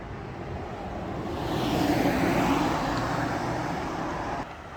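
Traffic on Bundy Drive: a car swells in loudness as it speeds past at fairly high speed, then fades back into a steady roadway hum, with no talking.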